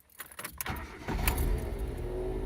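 A 2004 Ford Ka with a 1.6 engine and a loss-of-power fault starts running while being reversed into a parking space. A few light clicks and rattles come first, then a close, even engine hum settles in.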